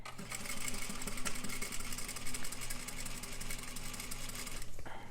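A sewing machine runs steadily through a corner seam with a back stitch, a continuous close mechanical whir and hum that holds for about four and a half seconds before stopping abruptly near the end.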